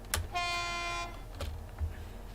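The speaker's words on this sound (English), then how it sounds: "Let's watch the train going through from here" A train passes in Train Simulator on the New Haven Line, with a loud sustained horn blast lasting under a second, then rumbling and clattering as it goes by, heard alone without talk.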